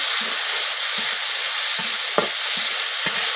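Potatoes fry in a pan with a constant loud sizzle, broken every half second or so by short scraping stirs of a utensil; no one speaks.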